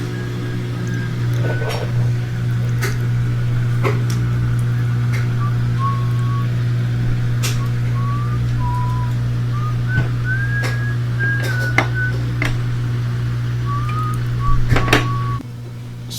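A GE top-load washing machine's drum spins up after a repair, a steady low motor hum and whine droning throughout, with a faint wavering whistle-like tone drifting above and occasional clicks, close and continuous.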